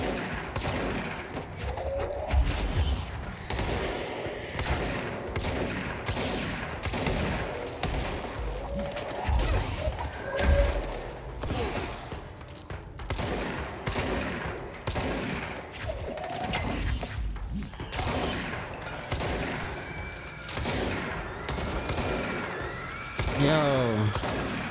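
Shotgun blasts and rapid gunfire ring out in the horror video game Finding Sarah Marshall, dense repeated shots under music and game noise, with someone talking over the action.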